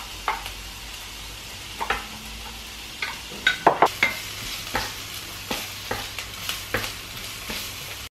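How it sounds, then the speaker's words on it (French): Onions frying in hot oil in a pan give a steady close sizzle, broken by repeated scraping stirs and clacks of a utensil against the pan, with no talking. "Je vois que mon huile a chauffé, donc j'y ajoute mes oignons."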